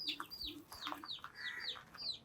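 Chickens at a coop give a few soft, short clucks and chirpy calls, quiet and close, over a brief moment.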